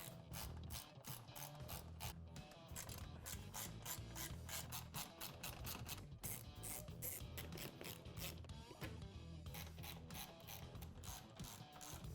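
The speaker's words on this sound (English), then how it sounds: "Now we'll go ahead and remove all the screws from the front bumper." A ratchet clicks steadily as screws are removed from the front bumper of a Polaris RZR XP 1000, with rapid repeated pawl ticks in bursts and brief pauses, close and clear, with no talking.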